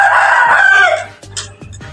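Chicken clucking and squawking loudly up close, with a rooster-like crow at the start, then shorter clucks over a steady low hum.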